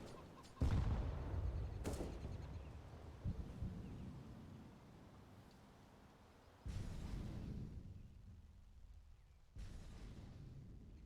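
Grenade blast and gunfire in a tactical shooter video game, with a loud booming explosion near the start followed by repeated bursts of shots and later heavy booms, no talking.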